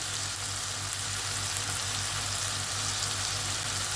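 Onion, garlic, ginger and green chilli paste frying in oil in a pan, giving a dense, steady close sizzle throughout with faint stirring.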